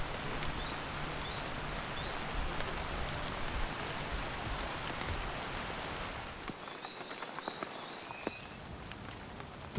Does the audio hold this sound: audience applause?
no